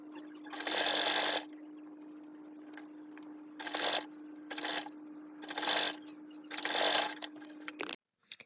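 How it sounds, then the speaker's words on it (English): A sewing machine stitches a fabric pocket together in several separate bursts of rapid mechanical whirring, close and clear, with a steady motor hum and quiet pauses between runs and no talking. "sew them together with your machine"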